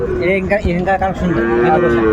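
Loud, drawn-out moos of young bulls and heifer calves close by at the Aftabganj cattle market, with several overlapping lowing calls and no talking.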